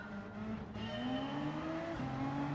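Race cars in Gran Turismo 7 roaring off at a race start, with a steady, loud engine drone whose pitch climbs as they accelerate and a brief shift partway through. No voices are heard.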